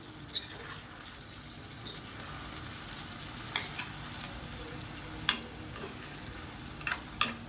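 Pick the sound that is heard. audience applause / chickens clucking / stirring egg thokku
stirring egg thokku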